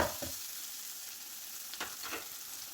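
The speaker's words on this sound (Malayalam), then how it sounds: "ഇതിവിടെ ഉള്ളിയെല്ലാം വഴന്നു വരുന്നുണ്ട്" Onions sauté in a pan for potato masala, with a faint, steady sizzle broken by a few soft scraping stirs.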